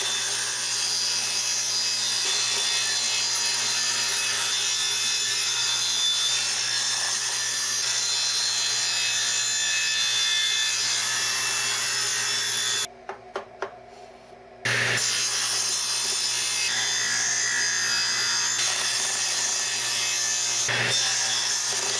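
Pallet wood being trimmed along its edges by a steady, loud saw with a continuous whine, cut off by a brief pause midway before resuming.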